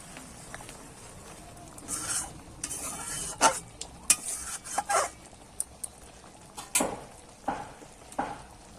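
Pointed gourd curry simmers in a pan while a spoon stirs it, with a soft bubbling background and a series of sharp clinks and scrapes against the pan at irregular intervals.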